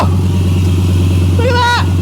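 A swapped-in Audi RS3 DAZA engine, once flood-damaged, runs steadily inside a Skoda vRS, a loud constant drone filling the clip while an excited voice shouts briefly over it near the end.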